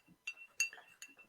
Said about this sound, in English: Let's clink.